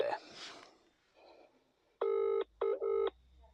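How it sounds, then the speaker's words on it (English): Touch-tone telephone keypad tones while placing a call, heard as a few loud, sustained multi-tone beeps with short gaps between them, following a brief stretch of talk. "Let me just ring Johnny Adair."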